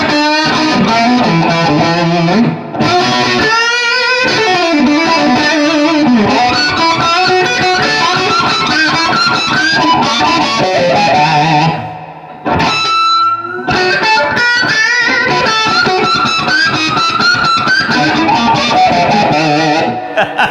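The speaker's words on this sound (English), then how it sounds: "Guys, it's a distortion pedal. It does one thing, makes this sound." Electric guitar played through a Wren & Cuff Mercy Phuk distortion pedal, loud and saturated, with chugging riffs, sustained chords and brief pauses, no talk.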